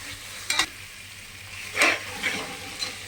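Tomatoes sautéing in a pan with ginger garlic paste for tomato rice make a soft, steady hiss, broken by a few brief scraping stirs of a spatula.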